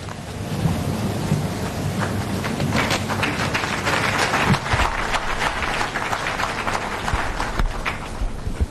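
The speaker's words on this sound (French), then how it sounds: "Si vous applaudissez comme ça, ça me fait mal." Audience applause filling a hall, dense continuous clapping at steady loudness with no speech over it.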